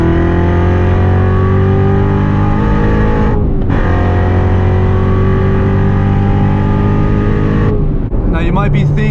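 Supercharged 6.2-liter V8 of a Chevrolet Corvette C7 Z06 revving loudly and close by, a sustained harmonic roar that breaks briefly around the midpoint, resumes, then drops off near the end.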